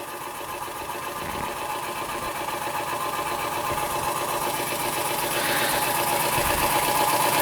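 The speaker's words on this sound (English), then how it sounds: "It's quite a nice engine when it's running." A scratch-built overtype model steam engine runs steadily on a spirit burner, giving a fast, even mechanical chatter that holds constant and grows slightly louder toward the end.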